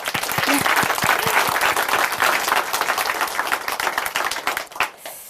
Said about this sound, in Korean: 다시 한번 화이팅 박수 보내드릴게요